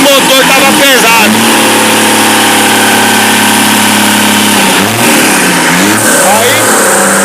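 A Chevrolet D60 truck's diesel engine runs loud and close, a heavy rumbling idle with a few revs rising and falling, while people talk over it.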